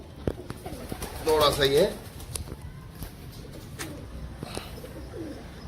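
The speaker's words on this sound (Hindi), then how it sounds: "ये रात का टाइम है, इनको डिस्टर्ब किया है कबूतरों को मैंने" Pigeons in a pen of about 35 birds, disturbed at night near their cage, give a brief burst of throaty cooing close by, mixed with faint fluttering, while someone speaks quietly nearby.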